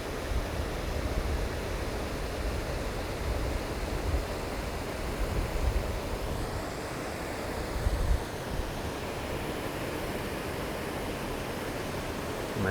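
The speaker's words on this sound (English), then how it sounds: "hopefully you could hear this over the waterfall" Constant roaring rush of falling water, broad and steady with slight swells, filling the whole clip with no voices.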